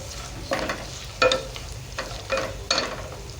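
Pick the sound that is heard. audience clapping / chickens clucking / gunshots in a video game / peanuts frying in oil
peanuts frying in oil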